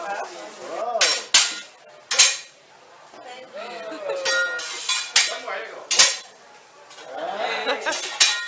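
Dishes, pots and cutlery clink and clatter in a kitchen as a meal is cooked in Belize, with sharp metallic knocks in clusters and a few brighter chimes, while people talk close by.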